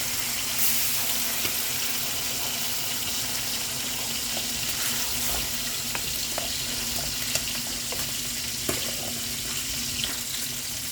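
Water splashes into a pan of frying onion with ginger-garlic spices, setting off a loud, continuous sizzle with a few stirring clicks.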